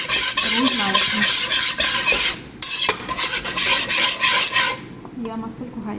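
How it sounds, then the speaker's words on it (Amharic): A spoon stirs Turkish-style soup with meat, egg, flour and rice in a metal pot, giving steady close scraping and clinking strokes with a brief pause midway, fading toward the end. "እያማሰልኩ ውሃ እጨምራለሁ ማለት ነው።"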